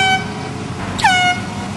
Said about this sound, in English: an air horn will silence all evil